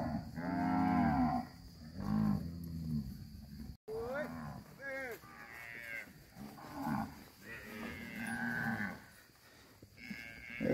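Several cattle moo loudly and repeatedly while being herded and sorted, low drawn-out calls overlapping one another, with people shouting among them.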